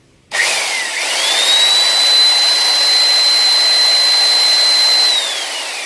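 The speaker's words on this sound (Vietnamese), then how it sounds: "Chà nhám chà đồ ha" An electric sander, a Japanese-import power tool running on 220V, whirs up to a steady high-pitched whine after a quick start, holding loud and close for several seconds before its pitch slides back down, with no talk.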